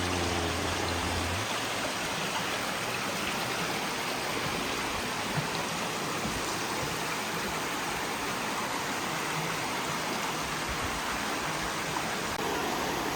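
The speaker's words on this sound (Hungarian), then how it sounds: "Intenzív csobogás" A mountain stream in a Northern Carpathian gorge rushes loudly and without a break, a dense broadband babble of water close by that holds steady throughout.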